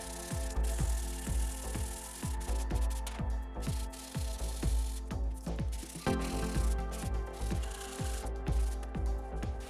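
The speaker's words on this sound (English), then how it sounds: "So spray a little water on here and get the sanding." Wet hand sanding of a forged chef's knife blade, a steady run of regular rasping back-and-forth strokes at a brisk rhythm, close and fairly quiet, with no talking.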